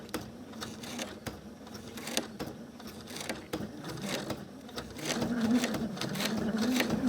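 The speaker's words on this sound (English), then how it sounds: "I'm going to go as slowly as I can so that I have the best chance of having an even top stitching line." A sewing machine topstitches through paper at slow speed, giving a soft, uneven buzzing hum with faint clicks that grows slightly louder and steadier toward the end, close by with no talking.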